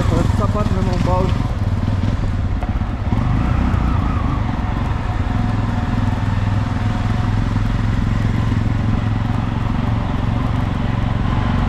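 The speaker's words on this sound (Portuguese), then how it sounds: "Porque eu tô de moto, não consigo me segurar." Motorcycle riding over rocks in a tunnel, a continuous close engine drone with rumbling, crackling jolts and clatter throughout, with some speech over it.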